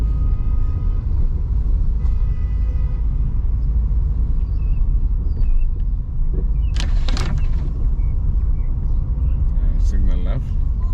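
A car on a Florida road test rolls slowly at about 10 mph, a steady low engine and road rumble close inside the cabin, with a few faint clicks and someone talking over it.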